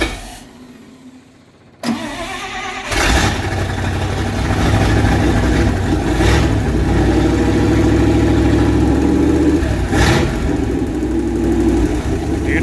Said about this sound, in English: She's got a great exhaust note